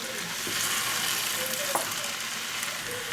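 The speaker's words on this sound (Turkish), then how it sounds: "Tekrar son olarak karıştırıyorum." Summer vegetable pasta with olive oil being stirred in a pot, a loud continuous sizzle with scraping and clinks from the spoon moving through the vegetables, no voices.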